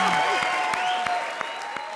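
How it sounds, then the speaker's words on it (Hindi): Audience applause on the set of a televised comedy show, brief and fairly steady, with a voice talking over it and sharp percussive hits cutting through. "बजा दे ताली"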